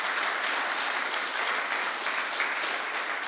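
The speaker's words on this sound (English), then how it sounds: "I'd like to ask for a round of applause for everybody who had a hand in organizing this conference" Conference audience applauding after a keynote, a dense steady clapping from a large crowd that holds at an even, fairly loud level throughout with no talk over it.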